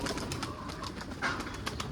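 Low, soft cooing from a pigeon or dove repeats in a gentle rhythm nearby, with faint background noise and no speech.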